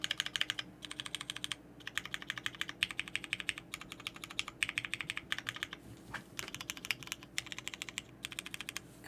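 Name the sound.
typing on MB-TKL prototype 40% mechanical keyboard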